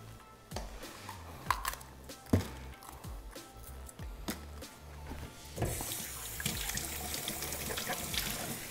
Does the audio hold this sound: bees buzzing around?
no